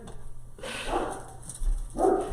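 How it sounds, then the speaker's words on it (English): A dog upstairs in the house lets out two muffled barks a second or so apart over a quiet room background. "He doesn't know the rules, though. No barking."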